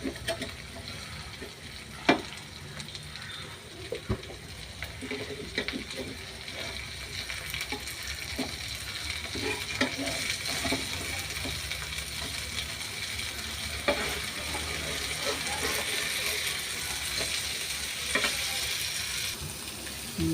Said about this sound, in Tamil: இப்போ வந்து இந்த மீனை வந்து திருப்பி போட்டுக்கிறேன்.